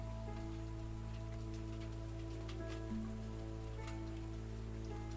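Steady rain patters softly on surfaces in the spooky indie game Picta Mori, a faint continuous wash over a low droning hum with a few brief tonal notes.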